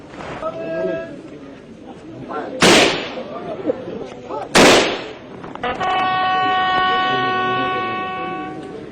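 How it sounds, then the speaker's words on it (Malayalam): Two sharp, loud ceremonial gun salute blasts fired a couple of seconds apart at a funeral, ringing out over murmuring crowd noise, followed by a sustained brass bugle-like tone. "തുടർന്ന് ആചാര വെടിമുഴങ്ങി."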